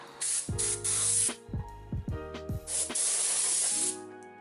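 Wax and grease remover sprays onto a shaved 5.3 LM7 LS truck manifold in several close, loud hissing bursts of varying length, with short gaps between them.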